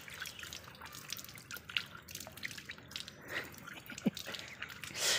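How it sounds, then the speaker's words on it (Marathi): Freshly dug peanuts are washed by hand in water, giving soft, quiet splashes and scattered drips with a few sharper plops, close by and with no talking. "त्याला आता पूर्ण काढणार, मस्त धुणार पाण्यामध्ये"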